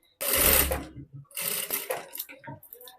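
Sewing machine stitching a ruffle sleeve blouse, sounding in two short bursts of quick mechanical whirring, the first louder and longer, followed by lighter handling clicks and rustles, close by.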